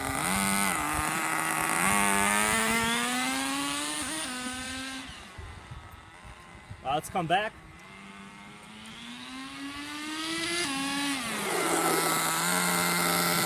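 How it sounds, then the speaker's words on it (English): A small nitro RC car engine with a two-speed transmission buzzes steadily, its pitch rising and falling as it revs and settles back to idle, with a brief spoken remark partway through. "So the 2-speed shifts perfectly. Engine idles perfectly."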